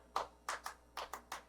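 Hand claps in a rehearsal demonstrate Steve Reich's Clapping Music: six crisp, close claps in an uneven rhythmic pattern over a quiet background.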